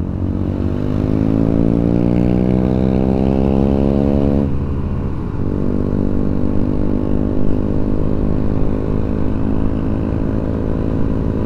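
A motorcycle engine labors up a steep hill on a Sunday group ride near Kopeng, its loud, close drone holding a strained pitch, then dipping and recovering as it keeps pulling; no one speaks.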